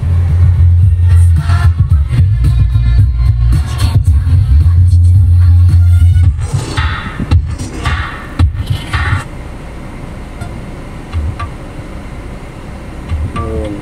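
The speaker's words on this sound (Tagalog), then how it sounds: "sobrang ganda ng bass ng ating subwoofer mga boss" Deep, booming bass from a car subwoofer in a Toyota Rush thumps heavily in the low end for several seconds, then gives way to quieter rustling and clicks.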